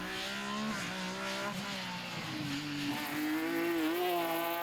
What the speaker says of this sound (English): So it's a fight now between Philip Blommers in this BMW and Toby van den Bergen in the BMW 132.